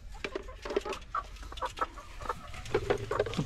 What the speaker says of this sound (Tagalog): Magaling yung mga manok dito